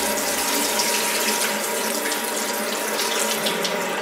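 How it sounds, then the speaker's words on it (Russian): Water pours steadily from a kitchen tap into a sink while rice for plov is rinsed and the cloudy water is drained, a continuous close splashing rush with no talk. "Сливаю опять водичку."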